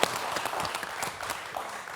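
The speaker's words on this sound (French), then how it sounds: "Alors là, ça s'applaudit." A studio audience at a French TV quiz show claps in a brief, moderate burst of applause.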